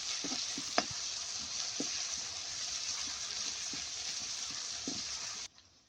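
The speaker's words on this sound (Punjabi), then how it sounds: "ਇਹਨੂੰ ਆਪਾਂ ਭੁੰਨ ਲੈਂਦੇ ਆ ਚੰਗੀ ਤਰ੍ਹਾਂ ਬਿਲਕੁਲ ਘੱਟ ਤੇਲ ਦੇ ਵਿੱਚ" Ginger, garlic and green chili frying in a small amount of oil for veg macaroni, a steady close sizzle with occasional stirring clinks and pops, ending abruptly.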